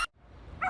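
A dog gives a single sharp bark followed by a short second yap, close and loud, with quiet room noise between them.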